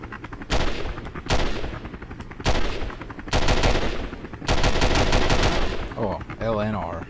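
Bursts of simulated gunfire from a firing-range target drill in Call of Duty 4 on the Nintendo DS, five loud clusters of rapid shots spaced about a second apart, followed by a brief electronic tone.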